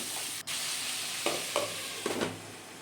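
Potato slices fry in a covered pan, a steady muffled sizzle with a brief dropout and a few soft knocks near the end, no talking.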